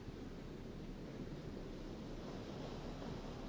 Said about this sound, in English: We can just listen to the waves.